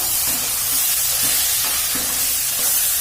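Rajma masala with chilli and turmeric powder is stirred in a hot pan, a loud, constant sizzle with soft scraping strokes recurring about every half second and no voices.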